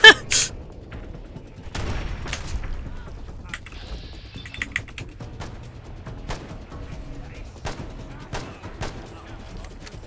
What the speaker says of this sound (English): I'm shooting one of my own guys here.